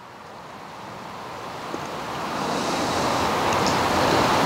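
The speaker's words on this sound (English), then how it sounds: "Finally, we're gonna go ahead and add our milk. And kind of try to pour it in there nice and slow." Milk is poured slowly into a pan for a mild queso dip by a charcoal bullet smoker. A soft, continuous rushing hiss gradually swells louder, heard close and alone.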